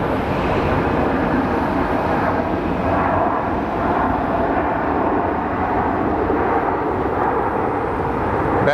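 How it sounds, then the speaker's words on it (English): An airliner landing at Sky Harbor Airport in Phoenix: a steady, loud broadband jet roar that rumbles continuously throughout, with no voices. "Those landings are pretty impressive"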